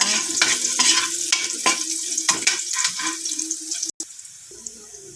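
Garlic dropped into a little cooking oil crackles and spits in a close, fairly loud sizzle, broken by sharp clattering bursts like stirring or scraping. It cuts off abruptly near the end and gives way to a quieter, softer hiss.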